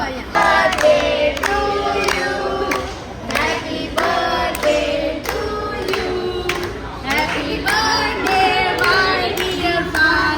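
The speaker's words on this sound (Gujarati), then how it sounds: "ઓલા બધા તાળી પાડી." A group of people at a birthday celebration clap in a steady rhythm, close and loud, while voices sing and chatter over the claps.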